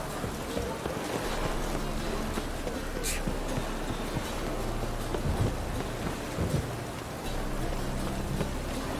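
Steady heavy rain pours in the video game The Witcher 3, with rumbling thunder underneath and a sharp crack partway through, a dense constant wash heard alone.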